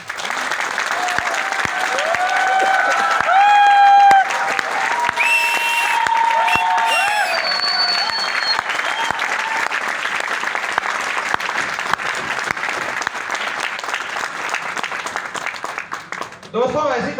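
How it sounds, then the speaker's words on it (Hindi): An audience claps to welcome guests, a full sustained round of applause with some whistles and voices rising over it, continuing strongly before tapering near the end. "तालियां बजा कर दिखाएं दोस्त।"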